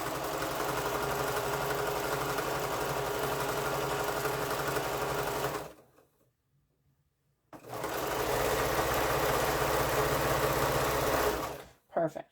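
A sewing machine stitches a quilt block seam in two loud, steady runs of rapid mechanical whirring, separated by a short silent pause, then a brief final burst.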